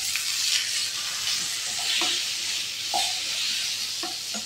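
Boiled elephant foot yam fries in a pan with whole white cumin, giving a steady soft sizzle with a few light clinks and stirring scrapes, no voices.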